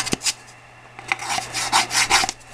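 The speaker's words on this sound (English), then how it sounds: "Something that comes in real handy when you're trying to sand is one of these nail boards." Wood being sanded with a handheld nail board, close and loud with a few scraping strokes at first and then a steady run of rough back-and-forth rubbing, with no talk.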